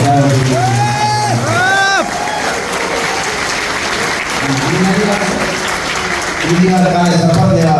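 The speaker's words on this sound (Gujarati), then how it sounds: "જોરદાર તાળી દે એકવાર" A live audience at a Gujarati folk dayro in Dubai applauding loudly, dense clapping that fills the whole stretch while a voice speaks and sings over it.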